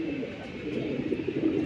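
Rabbit-eye pigeons cooing steadily in a continuous low murmur, with several birds overlapping at moderate loudness and no talk.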